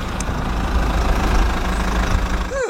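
A motorcycle engine idles with a steady, loud low rumble throughout, with a brief rising whine near the end.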